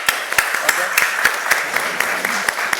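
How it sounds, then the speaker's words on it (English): Audience applause at a conference session in Sala Buonsanti at the Badia Fiesolana, heard as a moderate crowd clapping with distinct sharp claps punctuating the wash, steady over a few seconds at medium distance. "Please join me in a round of applause."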